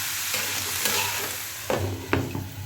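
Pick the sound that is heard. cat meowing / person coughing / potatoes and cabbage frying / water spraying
potatoes and cabbage frying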